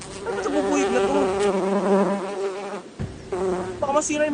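A bee buzzes close and loud near a sunflower planting, a continuous droning hum with wavering pitch that dips briefly before surging back, with no voices over it.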